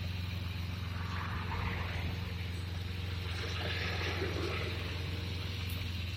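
A 2006 Chevrolet Equinox 3400 engine idles steadily after a valve cover gasket replacement, a continuous low rumble with faint hiss on top, heard up close and even throughout with no talk.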